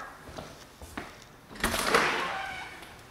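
A house door leading to the backyard opens or closes, with a few soft knocks and rattles, then a louder sliding, rushing movement that fades out; close and fairly quiet.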